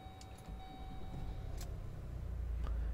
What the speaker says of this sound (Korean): 평소처럼 시동을 걸어주시면 됩니다